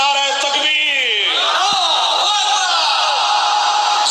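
A large crowd at a religious majlis gathering in Multan roars its reply to a takbir call, a loud sustained unison shout of many voices that carries over a lead voice rising at the start.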